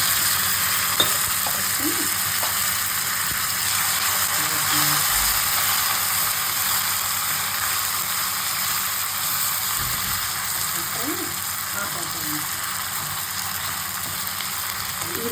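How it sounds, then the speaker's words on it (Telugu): Lentils and curry leaves fry in hot oil for vangi bath, giving a steady, even sizzle and hiss that runs close and unbroken throughout with no one speaking. "బావపప్పులన్నీ ఎర్రగా వేగినాక అప్పుడు కరివేపాకు వేసుకుందాం"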